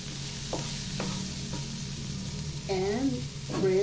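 Onion, garlic and ginger sautéing in a pan make a soft steady sizzle with a few light clicks, while a voice talks briefly over it toward the end.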